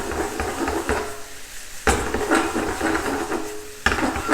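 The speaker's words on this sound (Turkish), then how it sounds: "Biberler 3-4 dakika kavruldu." Peppers sautéing in a pan with meat and onions for a Malatya geleli kebab, a steady sizzle under occasional metal clinks and two sharper knocks of a utensil against the pan, with no talking.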